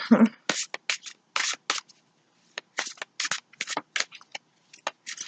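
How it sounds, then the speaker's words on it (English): Thick oracle cards are shuffled in quick riffling bursts, a series of crisp flapping rattles with short pauses between them. "these cards are real thick, so I always feel like I have to like shuffle them real good"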